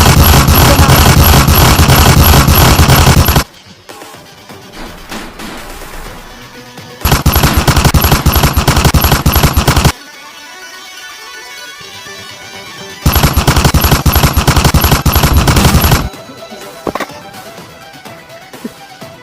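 Machine guns fire in loud, rapid, sustained bursts during a comedy skit, giving three long volleys of dense gunfire separated by quieter stretches.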